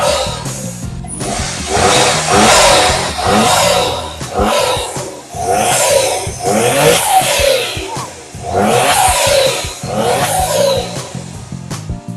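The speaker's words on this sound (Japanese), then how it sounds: "じゃあちょっとアクセルを煽ってみたいと思います" A car with an aftermarket air cleaner revs repeatedly, each loud roaring surge of engine and intake noise rising and falling in separate bursts at close range.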